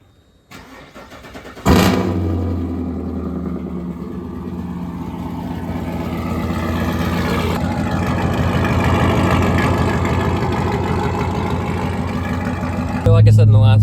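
A 2006 Kawasaki KLX110 pit bike cranks and fires on a cold start, then settles into a steady, slightly rising idle that runs alone and fairly loud throughout, ending with a brief louder burst.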